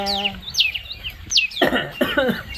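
A couple of short, harsh coughs come after some high, squeaky vocal sounds, close by and fairly loud.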